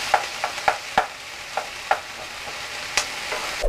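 Onion fries in a pan with a soft, steady sizzle, broken by a series of sharp scraping clicks as a utensil stirs it in a fairly regular rhythm.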